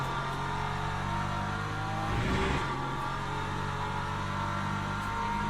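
Race cars in the Le Mans Ultimate racing game roar in a continuous, close engine drone with several cars bunched together, swelling briefly midway as hypercars pass.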